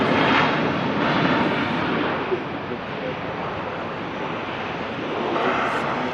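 A Ryanair airliner at Manchester Airport roars as a broad, steady jet rumble, fairly loud and continuous over the whole stretch with wind buffeting the microphone.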